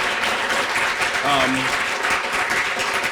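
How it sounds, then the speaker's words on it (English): Following a public lecture at a Black Catholic theological symposium, the audience breaks into sustained applause. The clapping stays steady throughout, and a voice briefly speaks over it midway. "please give him a round of applause"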